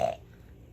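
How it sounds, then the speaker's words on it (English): A SpongeBob burping-game toy lets out a single short, throaty burp at the start, then a quiet room follows. "It sounded like it burps."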